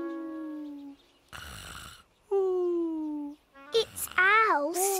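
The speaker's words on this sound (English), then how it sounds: "It's Al snoring." A cartoon character in a children's animated series snores in long drawn-out tonal rumbles, three or four breaths separated by a brief noisy gap, ending in warbling, wheezy snorts, loud and close with no talk.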